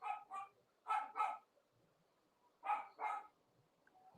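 Pet dogs give three quick pairs of barks, close and fairly faint, separated by short silent gaps in a quiet room.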